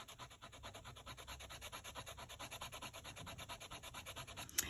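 An eraser rubs back and forth on paper in quick, even strokes, a close, soft scrubbing rhythm that repeats steadily before a small tap at the end, with no voices.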